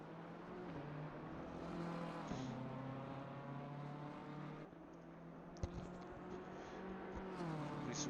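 A BMW GT3 race car at Spa in Assetto Corsa Competizione, its engine a steady, loud drone with shifting harmonic tones as it drives through, with no talking.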